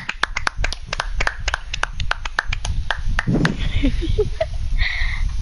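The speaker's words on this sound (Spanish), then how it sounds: "Vamos a aplaudir de nuevo." Applause from a small group, a brisk run of separate hand claps with a few voices speaking faintly underneath and some clattering near the end.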